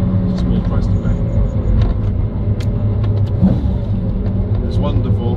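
A McLaren F1 supercar's engine drones loudly from onboard during a ride, a continuous throttle-driven roar with brief spikes, while a voice talks over it.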